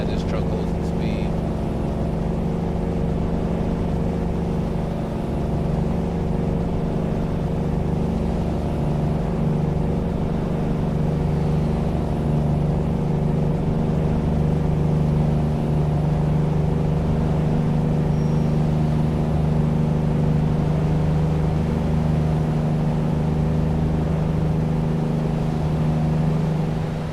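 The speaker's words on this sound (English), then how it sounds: "the engine on this truck sounds awesome" A Kenworth T2000 truck engine in American Truck Simulator drones steadily at high load in low gear, a loud unbroken low rumble with constant harmonic tones and no gear changes.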